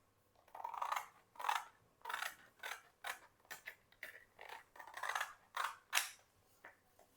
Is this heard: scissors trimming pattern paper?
yes